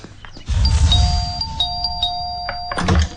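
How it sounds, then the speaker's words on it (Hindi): A doorbell chimes twice in a row, a clear two-tone ding-dong ringing out loud and near, with a muffled thump at the start and end. "2 टाइम घंटी क्यों मारता है यहाँ?"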